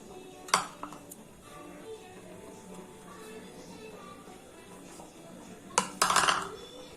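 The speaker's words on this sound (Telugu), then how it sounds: "ముందుగా ఒక ప్లేట్ తీసుకొని దాంట్లో 2 కప్స్ గోధుమ పిండి వేసుకోవాలి" A plate clinks on a hard surface while two cups of wheat flour go in for chapati dough, with a sharp knock early on and a louder cluster of rattles near the end in a quiet kitchen.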